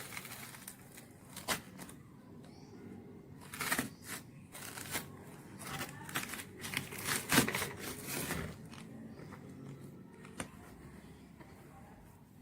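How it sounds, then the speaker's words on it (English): A knife halves fresh chili peppers for stuffed mirchi bajji on a cutting surface, making a run of sharp, separate taps and knocks of uneven loudness, close to the listener in a quiet room. "the first step is to cut the chili. So you half the chili like this."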